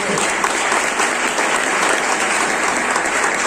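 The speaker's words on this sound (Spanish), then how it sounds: "Denle un aplauso al Señor" A church congregation applauds the Lord, dense steady clapping from many hands that fills the room loudly and continuously without letup.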